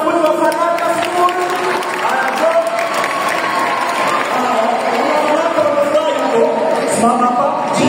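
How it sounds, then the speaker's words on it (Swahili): Fanaka School students applauding together, a dense, even wash of clapping from a crowd that holds steady and fairly loud throughout, with voices mixed into the crowd noise. "Makofi ya wanafunzi wa Fanaka School"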